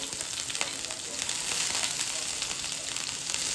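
Chopped ginger and garlic sizzle with mustard seeds in hot oil on a low flame for a Kerala beef roast, a steady close crackling hiss with no talk.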